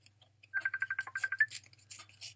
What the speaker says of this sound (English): I think someone's trying to FaceTime me.